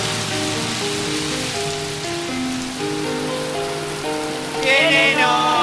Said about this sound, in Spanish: Con esta lluvia